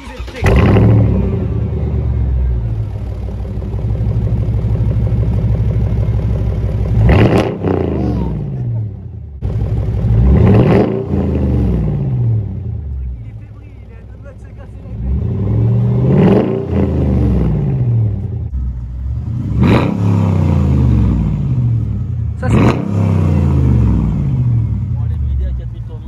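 A Mercedes SLK 55 AMG V8 idles with a deep rumble and is then revved hard several times up to the rev limiter, each sharp rise falling back to idle, loud and close.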